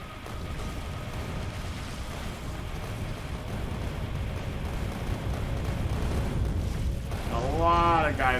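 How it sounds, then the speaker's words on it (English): Atomic bomb blasts in Factorio make a continuous deep, roaring rumble that swells slightly over several seconds. A brief voice joins near the end. "it seems like the nukes mostly kind of defeated the structures more than anything."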